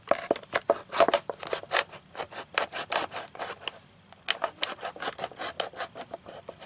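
Scissors cut along the middle groove of a plastic clothes-hanger planter piece, giving a quick run of crisp, rhythmic snips close by with a brief pause midway before the cutting resumes; no one speaks.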